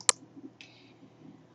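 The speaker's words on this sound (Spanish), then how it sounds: "si le doy clic aquí a cambiar" A single computer mouse click while changing the aircraft in Flight Simulator X, a short crisp tick near the start followed by a fainter second click, alone in a quiet room.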